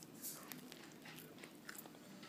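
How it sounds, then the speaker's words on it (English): Soft bites and chewing on a Choco Taco ice cream treat with a non-crunchy shell, quiet close-up mouth sounds with a few brief crackly bites and no talking. "I'm going to eat this Choco Taco that I know I don't like"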